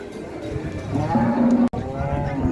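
A large cow at a cattle market moos loudly and close by, a long low call, followed by the start of another, with faint background noise.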